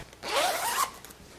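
A zipper being pulled along a freshly sewn fabric pillow cover, one smooth rising zip lasting about half a second, close and clear with no talk.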